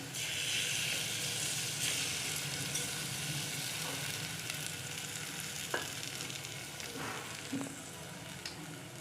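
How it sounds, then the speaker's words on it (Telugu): Three cracked eggs sizzle in a pan of frying onion masala for an onion egg curry, a steady broad hiss with a few faint clicks, close and continuous with no talk. "ఇలా ఫ్రై అయిన తర్వాత దీనిలోకి నేను పగలగొట్టిన 3 ఎగ్స్ని దీనిలో వేస్తున్నాను."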